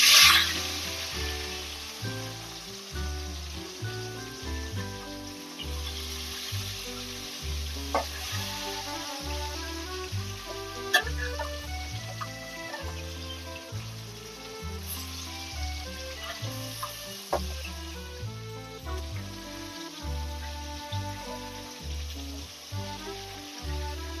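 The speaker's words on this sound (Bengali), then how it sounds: "বাকি মাছগুলো ভেজে নিচ্ছি।" Rupchand fish frying in a pan, a soft sizzle running under rhythmic background music, with a few brief clinks along the way.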